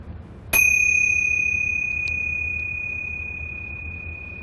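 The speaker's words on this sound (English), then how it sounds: "open your ears to the sound of the bell" A meditation bell struck once, a bright clear ding that rings out with a long pure sustained tone slowly fading over several seconds, alone in a quiet room.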